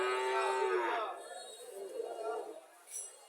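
A Sahiwal bull or calf gives one loud, close moo that fades out, followed by softer lowing and brief voices nearby.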